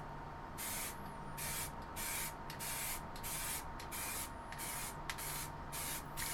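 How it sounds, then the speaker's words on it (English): A small air compressor paint sprayer hissing in repeated bursts of about a second each with brief pauses between, close and steady, over a low background hum, with no talking. "So I just did this most of the day, just spraying up everything."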